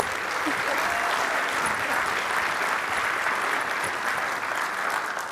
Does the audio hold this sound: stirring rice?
no